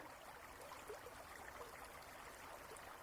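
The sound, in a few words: waterfall flowing in the distance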